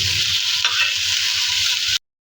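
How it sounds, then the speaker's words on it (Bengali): Eggplant and tomato slices fry in a pan, a loud, bright, continuous sizzle close by with one small crackle, cutting off abruptly. "বেগুন টমেটো আমি এপিট ওপিট করে ভেজে নিচ্ছি।"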